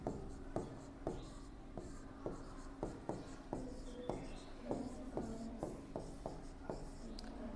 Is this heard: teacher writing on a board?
yes